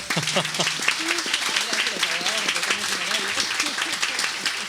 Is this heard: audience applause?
yes